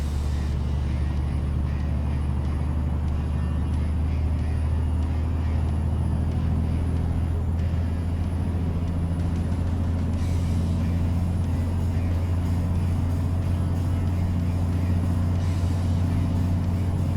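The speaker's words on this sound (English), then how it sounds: "Just so you guys can hear the engine at higher RPM as well." A simulated truck with a DC13 engine sound mod in Euro Truck Simulator 2 drones steadily at high RPM, a deep, constant, even engine hum held throughout without any talking.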